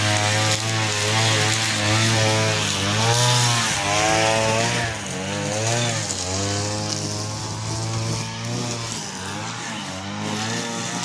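A loud Shifeng tractor engine rumbles steadily nearby while raking hay, its pitch wavering up and down as the revs change.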